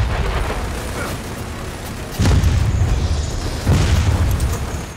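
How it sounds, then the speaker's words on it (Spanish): Heavy rocket blasts fired by an enemy in the video game Gears of War 4, two deep booming impacts over a dense roaring battle din, loud and close. "Es que tira cohetes, güey."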